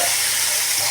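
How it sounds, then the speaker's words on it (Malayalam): Tomatoes drop into hot oil with browned ginger, garlic, onion and green chili, setting off a brief burst of loud, close hissing sizzle. "ഇനി ഇതിലേക്ക് നമുക്ക് തക്കാളി ചേർത്ത് കൊടുക്കാം."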